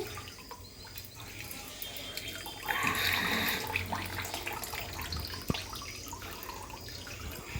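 Water running and dripping from homemade tofu being squeezed through cloth, a steady wet trickle that swells for a few seconds midway before easing back, with one brief sharp tap near the end.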